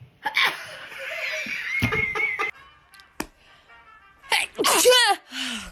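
A person sneezes loudly and close by, sharp bursts followed by laughter and chuckling from people nearby.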